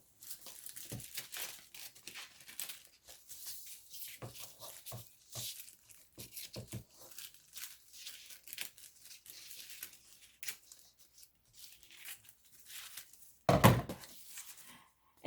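Paper being peeled away from a taped-down sheet while crafting DIY wedding invitations, with close crinkling and tearing rustles in irregular bursts and one sharp, louder rip or thump near the end; no talking.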